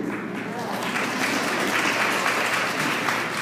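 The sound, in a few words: applause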